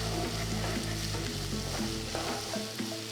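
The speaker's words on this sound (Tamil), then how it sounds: "பொடுசா நறுக்கின ஒரு பெரிய வெங்காயம், பொடுசா நறுக்கின ஒரு துண்டு இஞ்சி, நறுக்கின ஒரு பச்சை மிளகாய் சேர்த்து வெங்காயம் நல்ல பொன்னிறமாக வர வரைக்கும் வதக்குங்க" Chopped onion, ginger and green chili sautéing in a pan: a continuous moderate sizzle with frequent stirring scrapes and clicks, no talking.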